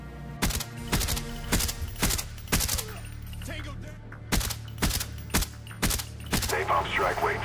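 Suppressed AK74u submachine gun firing in Black Ops: sharp, muffled shots in short bursts of two to four with brief gaps, loud and close, mixed with mechanical clicks.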